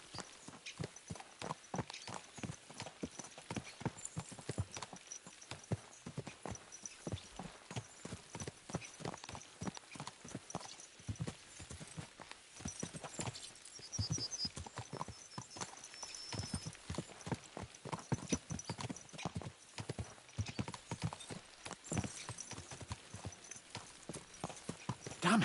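Horse hooves clip-clop steadily and close in a medieval setting in Kingdom Come: Deliverance II, a brisk, dense rhythm of ringing hoof strikes that runs unbroken throughout with no voices over it.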